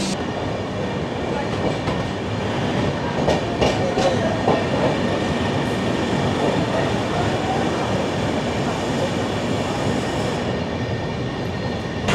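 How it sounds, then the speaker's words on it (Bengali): A train pulls into Durgapur station, a dense continuous rolling rumble with wheel clatter and a faint squeal, close and loud with no speech. "ট্রেন এখন এসে পৌঁছালো আমাদের আজকের প্রথম হল্ট দুর্গাপুরে"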